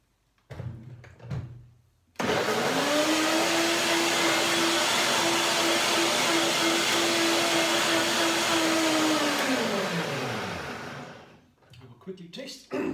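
A countertop blender whirs loud and steady for about eight seconds, blending cashew curry cream with a sustained motor drone that winds down at the end, with brief kitchen sounds before and after.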